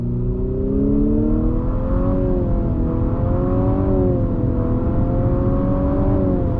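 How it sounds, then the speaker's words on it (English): A 2022 Infiniti QX55 with all-wheel drive accelerates on throttle, its engine drone rising and wavering through simulated gear steps, steady and loud from inside the cabin with no talking. "show you that on-throttle acceleration"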